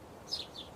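Two quick, thin sparrow chirps sound close together, the first a touch louder, against a quiet background.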